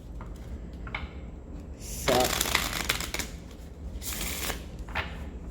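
A small oracle card deck is shuffled by hand in two bursts of riffling and rustling, with quieter handling and light tapping around them.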